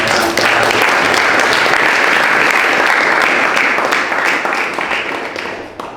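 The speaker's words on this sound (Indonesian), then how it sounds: "Sekali lagi Provisia, aplaus untuk presenter gagasan" Sustained audience applause for a student presenter at a school science presentation session, a dense, steady wash of many clapping hands that holds for several seconds and thins slightly near the end.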